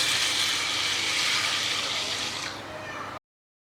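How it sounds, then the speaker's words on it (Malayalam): About two cups of water pour steadily into a pressure cooker holding soaked green gram, a continuous rushing splash for roughly three seconds that cuts off abruptly. "ഇനി ചെറുപയറിലേക്ക് നമുക്ക് ആവശ്യത്തിന് വെള്ളം ചേർത്ത് കൊടുക്കണം."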